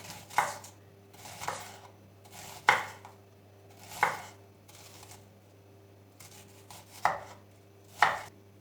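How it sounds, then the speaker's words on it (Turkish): Knife chopping onions into rings on a cutting board: sharp, separate cuts at an uneven pace with short pauses between them, close and clear, and no talking. "Soğanları da yuvarlak yuvarlak doğrayacağım"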